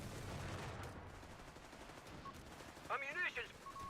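Machine-gun fire in Company of Heroes 3 comes through as faint, muffled bursts of rattling gunfire under game noise, followed near the end by a brief voice.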